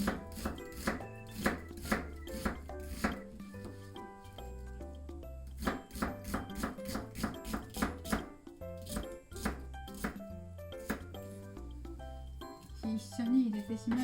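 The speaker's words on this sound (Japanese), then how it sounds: "玉ねぎも薄く切りますね。" An onion is sliced thinly with a knife on a board, giving quick runs of crisp, close chops in a steady rhythm, with brief pauses between bursts and a quieter patch before the cutting resumes.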